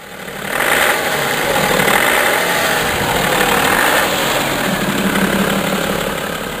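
A BMW xDrive diesel engine idles close by, a steady, loud mechanical rumble that holds even throughout without revving.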